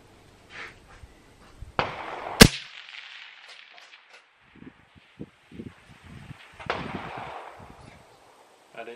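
A single sharp rifle crack from a Bergara Premier rifle fired at long-range targets outdoors, one loud report followed by a brief fading echo, then quiet rustling and small handling noises.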